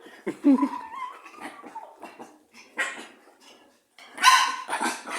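A boxer dog growls and gives a few barks, fairly close, with short bursts spaced across the clip and quiet gaps between.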